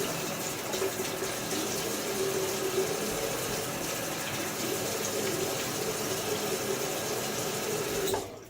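Running water from a tap while a man wets his face before shaving with a safety razor, a steady close rushing flow heard alone throughout and cut off at the end.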